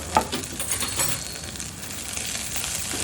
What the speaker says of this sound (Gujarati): આમાં આ થોડું તો અડધો ઇંચ જેટલું આદું સીણેલું અને 2 થી 3 કળી લસણની ઝીણી કાપેલી નાખીશું અંદર